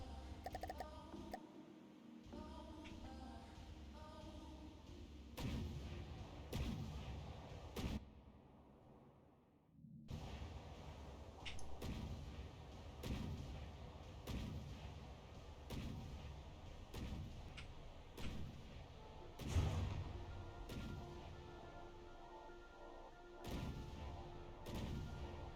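Anti-air guns firing in a video game, a string of heavy booming shots at irregular intervals over a constant low rumble, with a short lull near the ten-second mark before the firing resumes.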